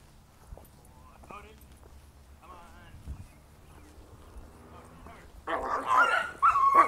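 A Bernese dog gives a burst of loud, close barks and whines near the end, after a stretch of quieter background voices and faint sounds.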